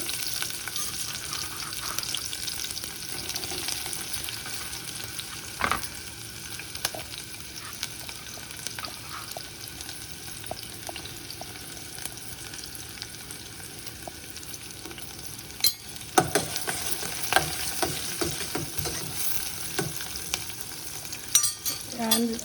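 Onions fry with turmeric and coriander powder in a pan, giving a soft, continuous sizzle with occasional stirring clicks and scrapes that grow busier near the end.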